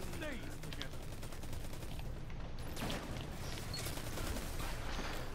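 Constant gunfire in a Destiny 2 Crucible match, fairly quiet, a dense rattle of shots running the whole time, with a voice talking over it now and then.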